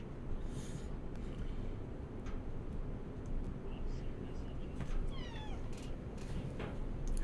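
A cat gives a few faint meows under steady background noise while a person talks nearby.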